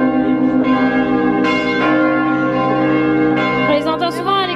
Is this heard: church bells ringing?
yes